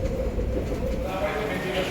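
A train ride toward Ueno in Tokyo, a steady low rumble of the moving carriage with a smooth rolling hum, heard continuously while someone talks.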